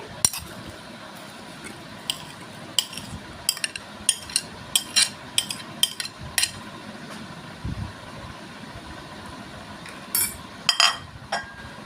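Cubed apple pieces dropping into a bowl of custard during fruit custard making, heard as a series of light clinks and taps of utensils against a bowl, scattered and close.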